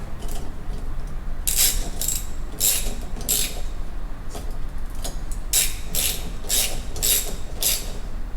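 Nuts being snugged down by hand on a replacement fan motor inside an LG oven: bursts of clicking ratchet strokes in two runs, close and fairly loud, with short pauses between them.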